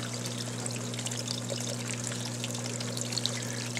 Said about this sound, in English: you can actually watch the water coming through the log